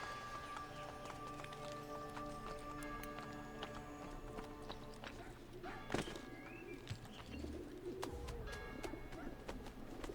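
Pigeons coo at a pigeon coop in the video game Assassin's Creed Brotherhood, soft cooing and bird calls over a bed of ambient town noise with clip-clopping horse hooves, moderately quiet and steady.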